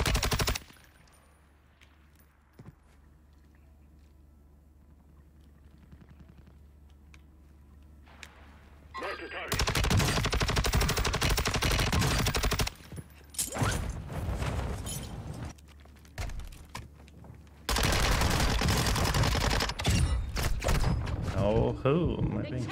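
Gunfire in Warzone on Ashika Island, starting quiet with faint distant shots, then loud close bursts of rapid automatic fire in long stretches separated by short gaps.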